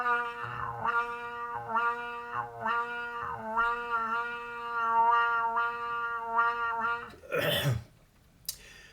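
A trumpet fitted with a wah-wah mute plays sustained, nasal notes whose tone swells and closes in repeated wah shapes, almost like a meowing cat, then stops with a brief breathy noise at the end.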